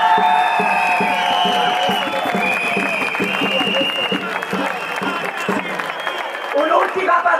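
A crowd claps and cheers at a No Hub del Gas protest rally in a town square in Sulmona, the steady, dense applause running beneath someone speaking loudly into a microphone.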